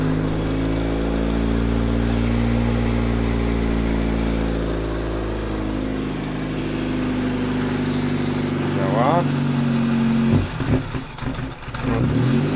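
A petrol generator (cogenerator) engine that is low on fuel drones steadily and loudly, then turns rough and uneven near the end as the throttle is opened.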